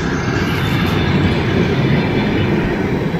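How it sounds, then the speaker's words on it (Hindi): A passenger train at Kokand railway station in northern Uzbekistan gives a loud, steady rumble of wheels and rolling carriages, close by and continuous, with no talk over it. "तो मैं पहुंच गया हूं कोकान, और इस ट्रेन में मैं आया था,"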